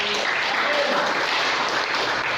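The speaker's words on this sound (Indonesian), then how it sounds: "Ayo tepuk tangan buat Tuhan" Congregation at a church sermon clapping for God, a dense continuous wash of many hands close up, steady and unbroken for the full stretch.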